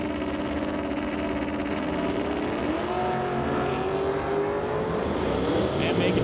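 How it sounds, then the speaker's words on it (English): Drag race cars, a Chevy Nova and a Mustang Fox body, roar loudly and continuously at a drag strip, engines revving and droning under a public-address announcer's voice. "Everett Heath running the Chevy Nova this weekend will be leaving first"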